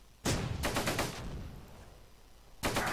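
Bursts of gunfire in the Close Combat: Gateway to Caen war game: a sharp loud volley, a rapid machine-gun string, a fading tail, then another heavy burst at the end.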